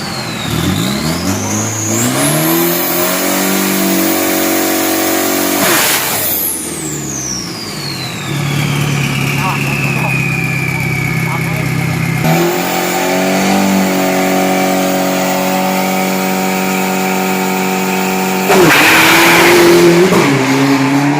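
A drag racing car on a 402 m run accelerates hard, its loud engine climbing in pitch and dropping sharply at each of several gear shifts, followed by a long falling whine and renewed roaring, close and continuous.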